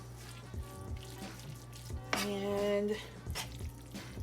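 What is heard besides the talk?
water being added to burrito filling in a pan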